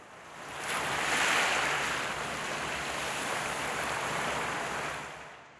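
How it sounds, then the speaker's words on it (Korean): Waves wash steadily onto a beach at Ganpo in a broad, hissing surge that swells and fades, with some wind noise and no voices. "가만히 들려오는 파도 소리에 오롯이 집중해 봅니다"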